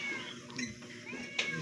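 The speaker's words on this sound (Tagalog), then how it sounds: "Meow ng meow." A house cat meows repeatedly close by in a home, with light household noise and a faint voice in the background.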